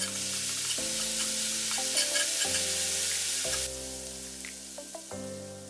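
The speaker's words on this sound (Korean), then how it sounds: "후끈 달아오르면 삼겹살 던져놓고 맛난 색깔이 날 때까지 볶았다" Pork belly stir-fries in a preheated pan with a spoonful of cooking oil over medium-low heat, giving a steady close sizzle broken by intermittent clinks of stirring.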